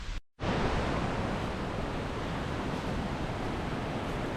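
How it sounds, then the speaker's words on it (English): Reekie Linn waterfall in Scotland in spate after heavy rain, a loud, continuous roaring rush of water filling the whole soundscape, with one brief dropout near the start. "that's the reason the waterfall is so ferocious today"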